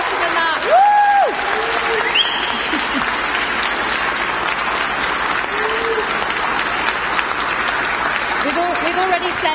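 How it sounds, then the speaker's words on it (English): A room full of people at an esports competition claps steadily and loudly for the winners, with scattered cheers and whoops rising over the sustained applause. "Can we just have one final round of applause for our winners?"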